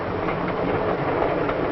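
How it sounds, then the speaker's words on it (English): A 1950s Santa Fe Super Chief passenger train rolls along the rails with a steady, dense rumble and muffled clatter, heard continuously and fairly loud throughout. "the train is approaching a station"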